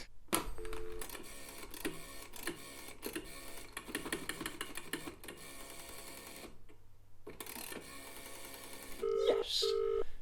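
A telephone is dialed in a series of clicks and short tones, separated by brief pauses, with a gap of silence and then a couple of clear tonal beeps near the end.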